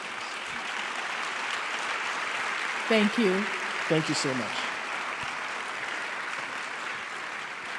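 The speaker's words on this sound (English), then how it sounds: "Please let the applause continue" Sustained applause from a church congregation at a Q&A session, steady and broad, filling the room while a voice near the middle briefly speaks over it.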